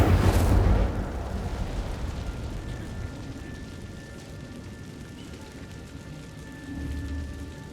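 An Incendio fire spell is cast in Hogwarts Legacy inside a cave, starting with a loud fiery burst that settles into a steady crackling roar of flames, fading gradually with a slight swell near the end.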